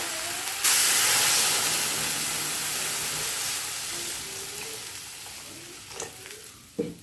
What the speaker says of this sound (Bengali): কলাটা ভেজে নিয়েছি এবার ঝোলের জন্য জল দিয়ে দেবো